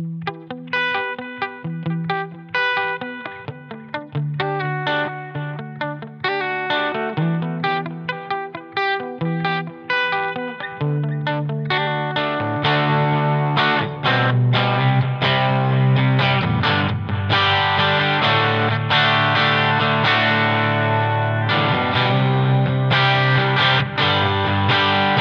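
Electric guitar through an Elephant Man delay pedal, picked notes and chords repeating in echoes that build into a dense, driven wash, loud and close with no talking.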